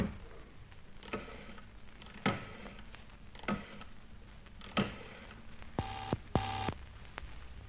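An old rotary telephone being dialled, a few soft clicking strokes followed by two short, distinct tone bursts near the end, quiet and close against a faint background hum.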